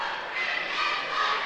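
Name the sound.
crowd at high school basketball game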